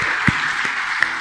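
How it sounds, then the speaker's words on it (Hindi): Brief burst of applause from a church congregation during a Sunday service, a dense broadband clatter with a couple of sharper claps standing out. "let's give a big hand to the Lord"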